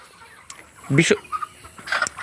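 Chickens at a poultry farm cluck in short, close bursts, with a couple of louder clustered calls in the middle and another flurry near the end over faint background noise.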